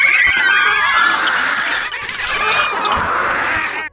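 A dense chorus of many birds chirping and calling at once, loud and continuous with overlapping warbles and squawks.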